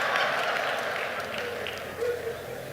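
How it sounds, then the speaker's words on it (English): A Nigerian crowd at a political rally claps and shouts, a dense, steady wash of applause and raised voices with a brief surge near the end, heard at a moderate distance. "You see how Nigerians are? See- you see the type of clap and shout."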